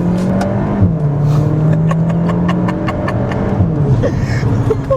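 Cupra Formentor VZ SUV engine pulling hard while driving down a mountain road, loud and close, revs rising and dipping through a shift with crackling exhaust pops, continuous with no talk.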